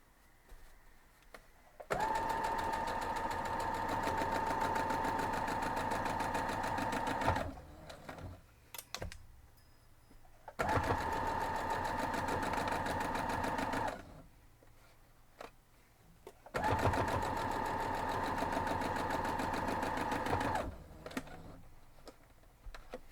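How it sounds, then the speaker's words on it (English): A sewing machine stitches a gingham quilt block in three long, steady whirring runs, each lasting several seconds, with short quiet pauses between them. "let's go sew it up and we're done."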